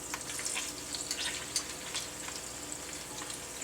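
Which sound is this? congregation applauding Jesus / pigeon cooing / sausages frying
sausages frying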